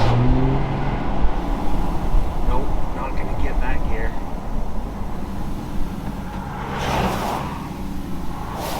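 A truck engine runs at a steady, loud idle with a deep continuous rumble and a slight rise midway, while people talk nearby.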